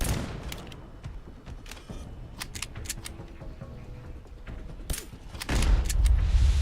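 Rapid bursts of gunfire in the video game Fallout: London, sharp cracks scattered throughout, with a louder, heavier boom-like rumble building near the end.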